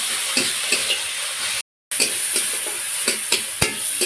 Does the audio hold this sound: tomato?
yes